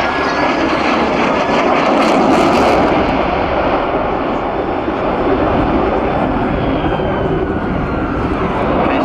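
An RAAF F/A-18 Hornet jet in a sustained turn at max power during an air show at Richmond, a loud continuous roar that swells slightly and then holds steady throughout.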